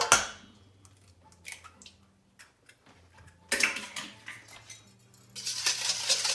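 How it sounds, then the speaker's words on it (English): Two eggs are cracked into a bowl, giving sharp clinks and taps of shell against the bowl scattered over a few seconds, close and fairly clear, with no talking. "we're going to crack 2 eggs"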